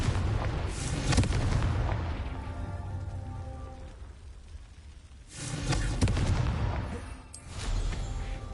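A Confringo fire spell blasting in Hogwarts Legacy, heard as two loud booming explosive bursts with crackling rumble, the first fading slowly and the second hitting hard about five seconds later before decaying again.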